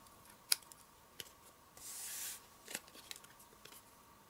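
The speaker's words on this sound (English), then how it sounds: "from the outside of each edge cut toward the center to make your" Scissors cut paper for a Christmas craft in a few quiet, separate snips and one longer sliding cut, close but faint in a quiet room.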